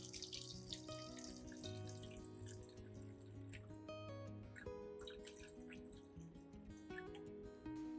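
Fertilizer solution trickles and gurgles as it is poured into a spray bottle, with small splashes and drips under faint background music.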